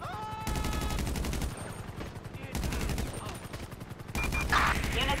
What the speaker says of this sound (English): Shots fired at an officer west of the Kloppenbelt factory